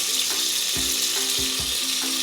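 Ground spices and chili powder frying in hot oil in a pan, a steady loud sizzling hiss with a few soft low knocks of stirring, no talking.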